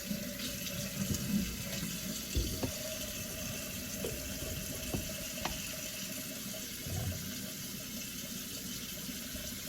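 Water runs steadily from a tap while hair is soaked before shampooing, a continuous close hiss and splash with occasional shifts as the stream hits the hair, with no talk.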